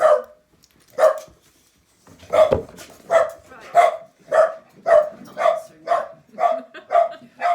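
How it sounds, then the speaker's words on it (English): Dogs bark repeatedly at someone at a house's front door, in a steady series of about a dozen sharp, fairly close barks with short gaps between them. "the dogs have gone off to see who it is"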